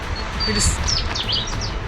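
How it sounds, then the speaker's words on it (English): Rufous bristlebird calling from dense coastal shrubland and heathland, a short run of bright, sweeping whistled notes over a steady wind-like background hiss. "Okay, so that was a rufous bristlebird."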